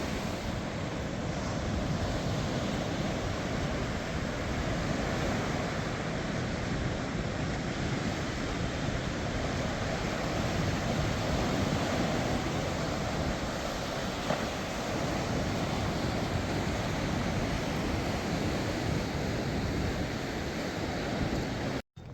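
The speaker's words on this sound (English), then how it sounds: "Listen to the sound of the waves in" Ocean waves break along the shore at Caesarea in a continuous, loud roar of surf with wind buffeting the microphone, steady from start to finish.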